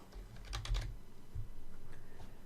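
Quick burst of typing on a computer keyboard while searching for SQL Server Management Studio in Windows, a cluster of close, crisp keystrokes followed by a quieter steady background hum.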